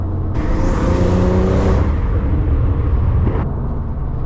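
A tuned Porsche 911 997.2 Turbo roars loudly from inside the car, its induction noise rising in pitch under acceleration, then a sharp whoosh as the throttle lifts before the engine surges again.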